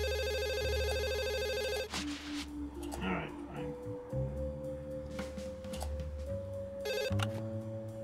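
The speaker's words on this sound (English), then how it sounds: "I should probably pick up that phone" In the adventure game Dog Mendonça & Pizzaboy, a telephone's electronic trill rings loudly for nearly two seconds, then stops as a voice speaks over quieter game music.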